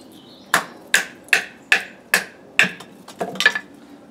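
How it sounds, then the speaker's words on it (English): A bushcraft knife is struck through wood with a baton: seven or eight sharp, close knocks come in a steady rhythm about every half second, and a few quicker overlapping hits land at the end. "there's absolutely no problem battening with this at all"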